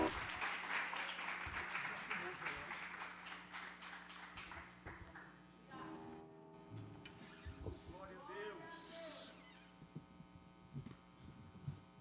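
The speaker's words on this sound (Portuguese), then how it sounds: "Vamos dar uma linda salva de palmas para Jesus." A church congregation at a Quadrangular worship service gives a burst of applause that starts fairly loud and gradually thins out, giving way to a low hum and a few voices and faint musical tones.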